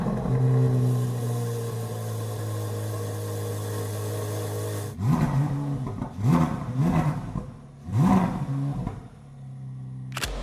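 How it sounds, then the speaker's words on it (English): A Corvette's new engine drones at idle, then fires up around the midpoint and barks through several sharp, loud revs in quick succession, each rising and falling, with no talking over it. "now that we talked about this really cool new motor that Corvette has, let's go start it up. You got to hear this thing."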